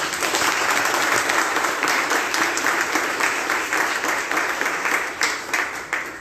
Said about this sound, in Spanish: Y otro aplauso para nuestro patrón